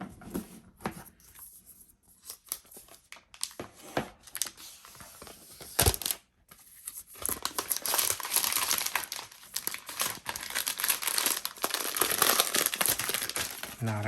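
Crinkling plastic packaging is torn and crumpled while a new iPad Air is unwrapped, close and moderately loud, in irregular bursts that grow into continuous rustling in the second half.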